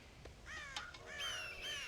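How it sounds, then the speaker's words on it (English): Crows caw repeatedly in a game scene from Red Dead Redemption, several harsh, overlapping calls at moderate distance with a faint ambient backdrop. "God damn crows!"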